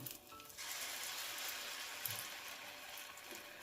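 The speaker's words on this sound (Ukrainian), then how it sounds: "Викладаємо тісто на розігріту олію." Pumpkin pancake batter hisses and sizzles steadily in hot oil in a frying pan, a dense, even crackle at moderate volume that carries on alone without talk.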